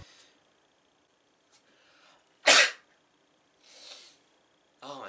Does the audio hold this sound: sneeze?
yes